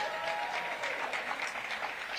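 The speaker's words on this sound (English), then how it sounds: "Give Krista a big round of applause." Audience applause at a public event where a mayor is being introduced, a steady, fairly faint wash of clapping lasting a couple of seconds with no talk over it.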